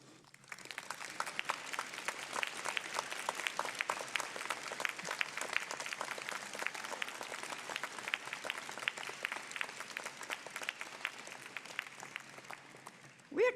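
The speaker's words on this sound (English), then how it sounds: "This would be a good point in time for you to stand and applaud those who have supported you." Graduating audience at a university convocation honorary degree ceremony stands and applauds, a dense, even patter of many hands clapping that carries on for over ten seconds, heard faintly from a distance.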